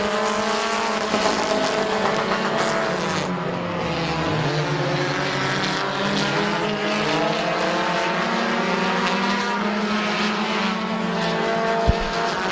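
Stock cars race at Midvale Speedway, their engines roaring loud and steady without a break. A low engine tone slides down and back up as a car passes near, and the other engines drone on under it.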